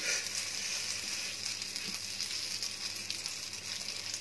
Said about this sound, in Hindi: घी बहुत ज़्यादा गरम करना है और घी हमारा काफ़ी गरम हो चुका है। अब इसमें हम कबाब डालेंगे।